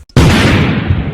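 A firecracker bursts nearby in one loud, sudden bang whose noisy crackle rings on and slowly fades over about a second.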